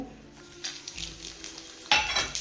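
Whole spices dropped into a hot kadai, light metallic clinks and scraping against the pan, then a sudden louder burst of sizzling toward the end.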